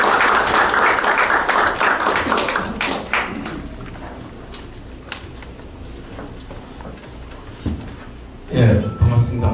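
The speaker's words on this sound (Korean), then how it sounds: "큰 박수로 맞이해 주시기 바랍니다" Audience applause greeting the presenter at a Korean startup investment pitch event, a burst of clapping that thins into scattered claps and taps, with a voice speaking over the end.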